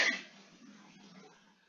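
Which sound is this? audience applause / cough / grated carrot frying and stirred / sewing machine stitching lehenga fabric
cough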